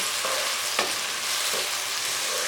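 Tomatoes fry in a pan for a Lahori chicken cholay, giving a steady, dense sizzle with a couple of soft stirring scrapes, close and without speech.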